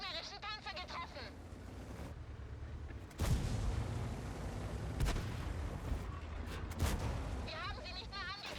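Heavy tank cannon fire in an online tank battle game, with sharp booming shots landing around three, five and seven seconds over steady engine rumble, while crew voice lines chatter throughout.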